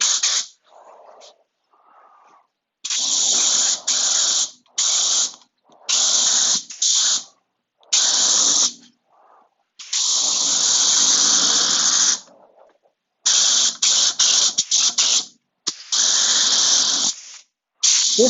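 Bursts of an EkoFill coating spray gun hissing as it coats a weave, several loud, broad spray passes of one to two seconds each with short pauses between them, no talking.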